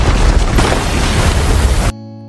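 Bombs detonate in a film scene, a loud, dense roaring blast of rumbling noise that holds for nearly two seconds before cutting off abruptly.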